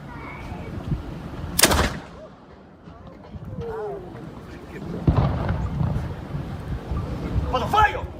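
A historic cannon is fired at Castillo de San Marcos in St. Augustine, a sharp boom followed by rumbling echoes amid wind noise outdoors, with shouted commands and voices around it.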